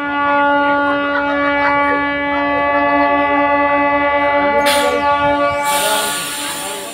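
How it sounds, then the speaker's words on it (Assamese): Busy ambience at Dimapur railway station with a train present, steady tonal hum and horn-like drones running throughout, broadband rushing bursts near the end, loud and continuous. "এয়া চাওক ডিমাপুৰ ট্ৰেইন ষ্টেচন"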